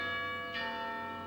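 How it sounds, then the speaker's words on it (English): Lincoln Cathedral bells chime at midday, a steady ringing tone that sustains through the moment with a soft swell partway, heard from a distance without voices. "Let us listen to the chimes of Lincoln Cathedral"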